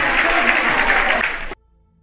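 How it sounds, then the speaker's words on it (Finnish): A crowd at a pesäpallo match between PattU and Tahko claps and cheers loudly for the home team, a dense sustained roar that cuts off abruptly into near silence. "Yleisö syttyy kannustamaan omiaan."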